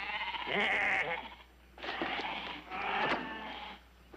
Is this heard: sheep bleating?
yes